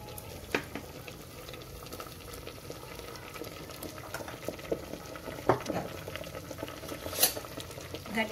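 Spices tipped into a pan of moong and turai veg curry, giving a soft low sizzle with intermittent stirring clinks and scrapes, fairly quiet and without talk.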